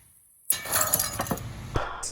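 An object dropped from higher up strikes glass, giving one sharp clink at impact followed by about a second of ringing, rattling glassy clatter with several smaller knocks, close and fairly loud with no talk.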